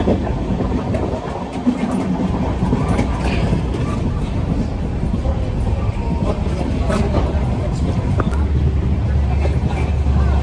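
A train's continuous rumble and rattle from inside a carriage on the Latur to Pune route, with clattering wheels and faint voices in the background.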